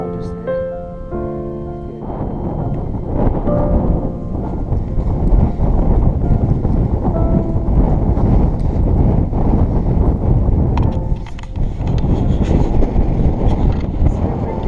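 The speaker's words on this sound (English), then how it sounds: "It's a bit windy, I know." Strong gusty wind buffeting the microphone on open Peak District moorland, a loud continuous rumble swelling and easing throughout, with some brief tonal sounds early on.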